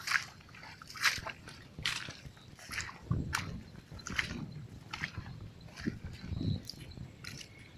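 Legs wading through water-filled trenches in a sugarcane field, producing a steady rhythm of sloshing, splashing steps roughly every second, close and fairly loud with rustling between.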